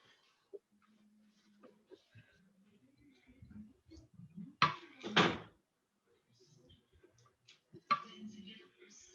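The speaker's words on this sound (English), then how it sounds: "I'm just going to close our basement door because the guys are playing darts." A basement door in a home kitchen swings shut, with a couple of sharp knocking thuds near the middle and another at the end, among soft handling clicks while a person speaks quietly.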